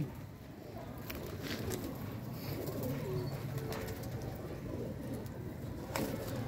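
Low, soft pigeon cooing repeats against a rustling, noisy background.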